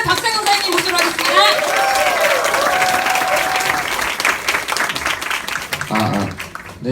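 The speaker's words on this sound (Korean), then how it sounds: "박수 부탁드리겠습니다" Seminar audience in a lecture hall breaks into loud, sustained applause as a speaker is welcomed, with voices and tonal sounds mixed through the clapping before it tapers off.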